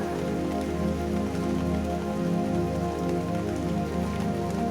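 Continuous rain falling on a surface, a steady even hiss mixed with a low droning tone underneath.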